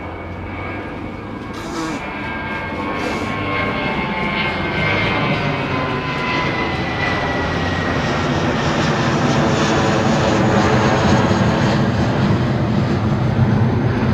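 A British Airways jet airliner at London Heathrow Airport roars as a loud, steady engine drone that swells slightly over the whole stretch, with no talk.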